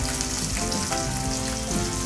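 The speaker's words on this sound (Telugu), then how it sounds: "మీడియం ఫ్లేమ్లో ఫ్రై చేసుకుందాము" Murrel fish fries in oil over a medium flame, giving a loud, steady, dense sizzle with continuous crackling and popping throughout the short stretch.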